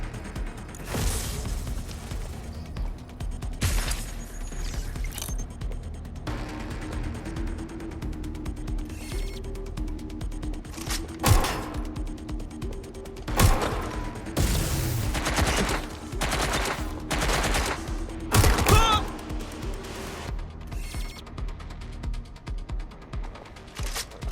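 Gunfire rings out in the video game Watch Dogs: Legion: scattered sharp shots and short bursts over a steady mechanical game background, with the loudest volleys in the second half.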